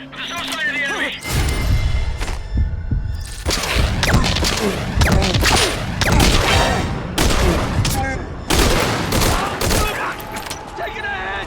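Sustained gunfire during a combat encounter in Metal Gear Solid V: Ground Zeroes: dense, loud overlapping bursts and impacts run almost continuously, mixed with radio voices and game effects.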